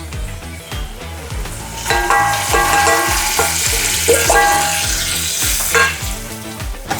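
Spices sizzling and frying with onion in a pan for a Marathi puri bhaji potato dish, with a steady loud crackle and periodic stirring scrapes throughout.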